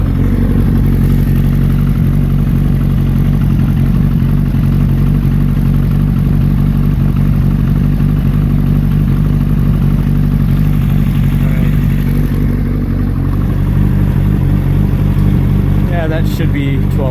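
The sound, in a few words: motorcycle engine idling during idle mixture tuning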